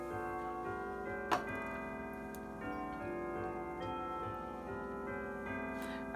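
A clock ticks indoors in a steady, even rhythm, close and clear throughout, with no voices.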